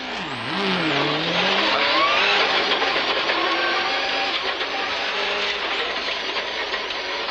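A 1997 Subaru Impreza rally car driven fast on a country road, its engine a loud sustained roar with rising and falling pitch, heard alone.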